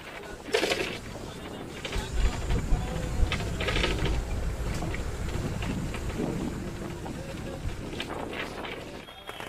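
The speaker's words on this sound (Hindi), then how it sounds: "एकदम देख सकते चारों तरफ बारिश ही बारिश गिर रहा है" Heavy rain pours down in Bhagalpur near the government bus stand in bad weather, a dense, steady hiss of falling water that stays loud and unbroken throughout.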